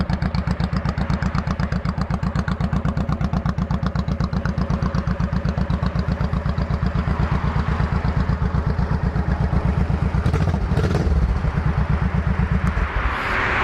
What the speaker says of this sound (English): Sounds really good with those Cobra exhausts.